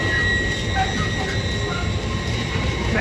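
A Hull Trains Class 802 unit pulls out of Doncaster station, giving a brief, steady close-up roar of rolling wheels and traction noise.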